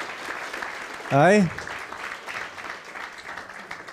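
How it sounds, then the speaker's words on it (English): Audience applause for Stephen and Derek at a seafood skills masterclass, steady clapping throughout with a short voiced exclamation from one person cutting in near the start. "Give them a great big round of applause again"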